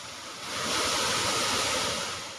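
Gundichaghagi waterfall roaring as a steady broad rush of falling water, swelling slightly then easing, dense and continuous with no voices.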